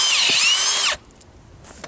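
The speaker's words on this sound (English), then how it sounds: "So this here's a battery operated drill, and it's pretty quick" A battery-operated drill bores a tap hole into a maple tree, whining steadily at high speed for about a second before stopping abruptly, followed by faint handling noises.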